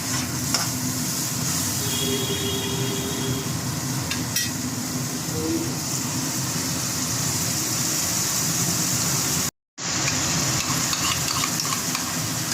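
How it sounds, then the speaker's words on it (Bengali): Spice paste frying and being stirred in a pan while cooking a dhoka curry, a steady close sizzle with scraping stirs throughout and a brief dropout near the end. "মশলাটা একটু হতে থাক।"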